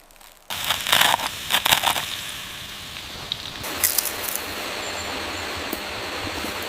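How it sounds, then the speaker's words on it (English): Coarse crumbs pressed onto an onion outdoors in the woods, giving a steady close crunching and crackling texture with a few sharper crisp bursts, no talk. "Now we gently press the coarse crumbs onto the onion"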